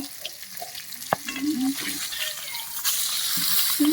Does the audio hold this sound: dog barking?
no